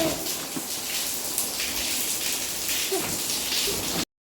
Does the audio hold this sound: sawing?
no